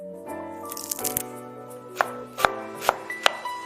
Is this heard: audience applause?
no